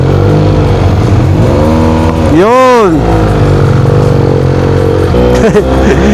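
A motorcycle engine drones loudly and steadily on a breakfast ride, with a rising and falling rev swell midway as it accelerates, close and sustained under wind noise, with a brief shout.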